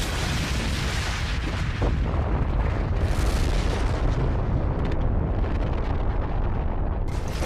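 A magical grenade blast erupts as a loud, sustained roaring rumble with crackling bursts and sharp pops scattered through it, dense and continuous from start to finish.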